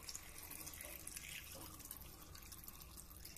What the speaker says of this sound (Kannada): ಈ ಕಾಳು ತರಕಾರಿ ಎಲ್ಲ ಮುಳುಗೋಷ್ಟು ನೀರು ಹಾಕೊಳ್ಳಬೇಕು